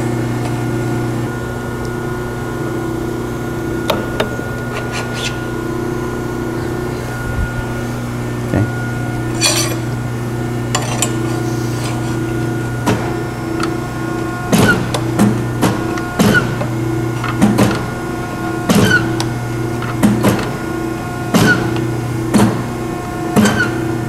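A Scotchman 5014ET 50-ton hydraulic ironworker hums steadily while its press brake step-bends metal, with a constant motor drone and a series of sharp clanks and knocks from the tooling, close and loud, with no talking.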